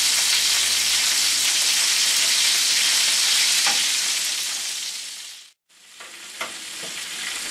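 Chicken wings sizzle loudly and steadily in a smoky oven, a dense crackling hiss that cuts out briefly as the door closes, then resumes more softly.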